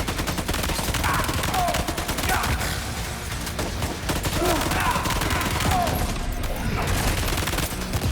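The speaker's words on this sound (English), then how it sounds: "Oh, that's a grenade." A grenade explosion and bursts of gunfire in the video game Death Stranding 2, dense and continuous rapid shots filling the whole stretch, loud and close, with a voice briefly reacting under the barrage.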